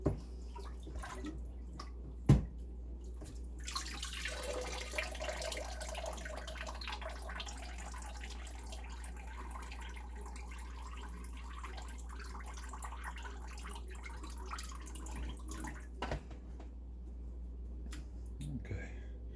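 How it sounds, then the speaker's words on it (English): Water is poured out of a tray of harvested broccoli into a sink, a soft splashing trickle that runs for several seconds after a couple of sharp knocks, fairly faint and close, then trails off into quiet drips. "we can pour the water out the side of the tray too."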